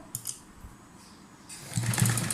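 Sewing machine running stitches over doubled fabric in a beginner stitching class, a quiet start that swells into a louder steady mechanical whir in the second half.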